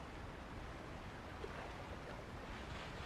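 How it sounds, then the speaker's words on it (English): Steady broadband water rush from the Monster Hunter XX game, with water flowing beneath a rocky overhang in an open area, continuous and even throughout with no voices. "there's some water definitely flowing under an overhang"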